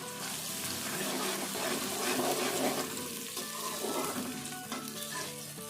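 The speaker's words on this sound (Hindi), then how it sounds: "और ये देखिए अदरक लहसुन और हरी मिर्च भी फ्राई हो गई है" Steady, loud sizzling of ginger, garlic and green chili frying in hot oil, with occasional stirring scrapes and crackles.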